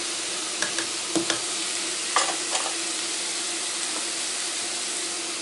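Peppers fry in a pan with curry powder and garlic powder, a constant bright sizzle with a few sharp utensil taps and stirring scrapes early on, close and even, no talking.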